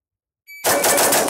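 After a short timer beep, nine rapid shots are fired through a Timney DH3 trigger, sounding as a dense, fast string of loud cracks that runs to the end of the clip.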